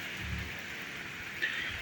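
Rain beginning to fall outdoors on a windy autumn day near a farm shed, a soft steady hiss of drops with a brief louder patter near the end, no voices.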